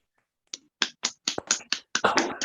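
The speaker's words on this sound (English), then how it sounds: "I'm going to ask everyone to unmute now for a round of audible applause for our readers." Scattered claps from a few Zoom participants after a poetry reading: about eight sharp, separate hand claps that thicken into a brief burst of clapping at the end, with no talking.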